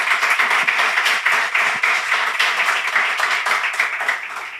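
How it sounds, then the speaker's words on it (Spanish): A live podcast audience at Villa Antiopa claps warmly for the Histocast guests, a continuous, fairly close patter of many hands with slight swells. No one speaks over it. "os pido un fuerte aplauso para los compañeros de Histocast"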